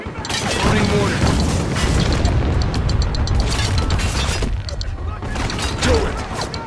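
Loud mortar fire and explosions in the Spec Ops The Line video game: repeated booming blasts with crackling debris and mechanical clatter, dense and continuous with short gaps.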